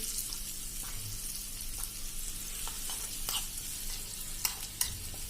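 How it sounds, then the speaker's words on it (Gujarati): Spicy seven-grain khichdo is stirred and mixed in a pot with green garlic, giving a soft continuous sizzle with repeated scraping strokes and a couple of sharp clinks of the spoon near the end. "હવે આને આપણે એકદમ બધું મિક્સ કરી લેશું."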